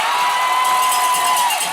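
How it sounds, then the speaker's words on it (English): A hockey arena crowd roars after a goal, a loud sustained wash of cheering and whoops with a tonal horn-like line running underneath before it fades. "the crowd explodes and the goal horn goes off"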